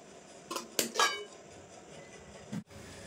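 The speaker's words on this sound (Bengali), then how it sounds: "তো কড়ার থেকে কিন্তু প্লেটে সব এই যে ঢেলে নিয়েছি।" Tangy sweet mango pickle made with jaggery is tipped from a wok onto a plate, giving a few close metallic clinks and scrapes of the pan against the dish.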